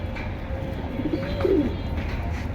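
Pigeons cooing in a loft or market, soft low throaty coos rising briefly over a steady murmur of background noise, close by with no voices.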